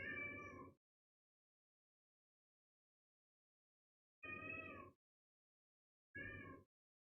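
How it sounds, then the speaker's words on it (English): Domestic cats meow indoors three separate times, one long call then two shorter ones after a silent gap, faint and isolated. "I don't know if you can hear my cats."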